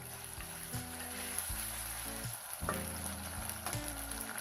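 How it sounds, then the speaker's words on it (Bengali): Ginger-garlic paste fries with onions in a pan for a shrimp curry, giving a steady soft sizzle with occasional stirring scrapes, close and fairly quiet. "আবারও আমি পেস্টটাকে হালকা ভেজে নিচ্ছি যাতে এর কাঁচা গন্ধটা না আসে"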